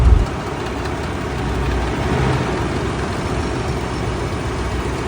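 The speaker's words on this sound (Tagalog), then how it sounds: "For starting, push the start button again for 2 seconds and confirm that tachometer reached 900 RPM." A ship's main engine runs after starting, settling into a steady, loud low rumble at 900 RPM inside the engine room, with no other sounds over it.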